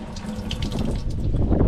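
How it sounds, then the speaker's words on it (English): Water gushes steadily from a pump outlet in a campsite kitchen on Whitsunday Island, a close, continuous splashing flow that grows slightly louder toward the end. "Lovely water pump."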